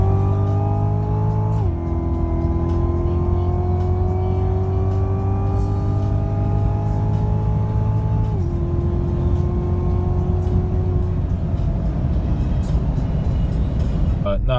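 A 2017 Cadillac CTS-V accelerates hard from inside the car. The engine note climbs steadily, drops at two gear shifts and keeps pulling with a loud, continuous roar.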